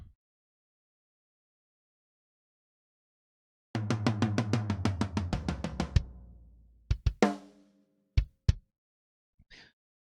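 A rapid run of sampled tom hits from an 1980s Japanese-made Tama Rockstar drum kit rolling down in pitch, followed by a few isolated heavier drum strikes and a faint cymbal tap, with silence before.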